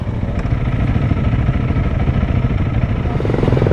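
A 2025 Honda CRF300L trail motorcycle ridden off-road on an enduro outing, its engine droning loud and steady with a rough, clattering texture and no pauses throughout.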